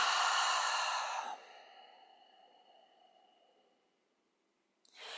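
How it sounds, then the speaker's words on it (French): A loud breathy exhale pushed through a constricted back of the throat, rasping and fading out over a few seconds, then a short new breath begins at the end. "tout en maintenant cette contraction de l'arrière-gorge, et donc ce bruit, ce son, hein, que ça fait quand on respire"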